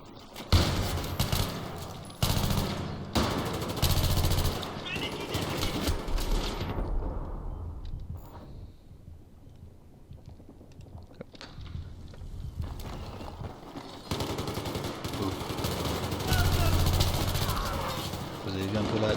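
Rapid bursts of automatic gunfire in the shooter game Battlefield 3, loud clustered volleys in the first half, a quieter stretch, then more firing toward the end, with a voice talking over the action.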